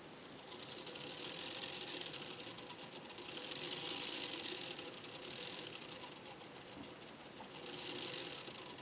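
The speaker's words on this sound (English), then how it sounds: "sounds nice and smooth, this motor" A Hornby Class 25 model locomotive's bogie drive motor, a CD motor fitted into the bogie, runs on the lowest controller setting with a steady, close, whirring mechanical buzz and gear clatter that rises and falls in waves, with no talk.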